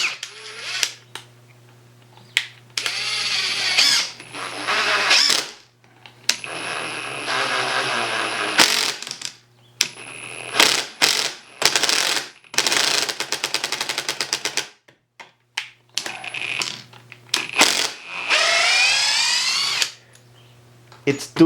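A Ryobi impact driver drives a screw in repeated bursts, whirring and hammering loudly up close, with short pauses between runs and stretches of speech between them.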